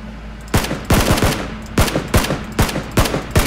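Loud, close gunfire from a PUBG match: several sharp shots in quick bursts, each with a short echoing tail, some doubled in rapid succession over a steady background hum.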